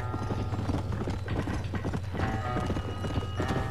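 Rapid hoofbeats of a galloping horse in Red Dead Redemption drum out in a quick, even rhythm, loud and close throughout, with a faint whinny-like tone and no speech.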